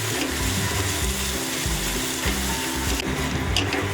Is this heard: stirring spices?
yes